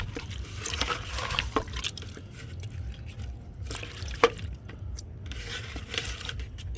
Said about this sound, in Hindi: इसको अच्छे से रगड़ लूँगा मैं